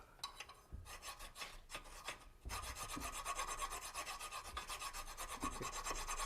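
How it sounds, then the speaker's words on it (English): Steady rasping of a hand file scraping across a metal crankshaft, repeated strokes building into a continuous harsh grind after a brief pause. "Hear that fucking file biting? Hear it biting?"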